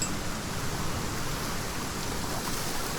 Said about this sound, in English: Well, there's not much I can do about that because, you know, it's raining.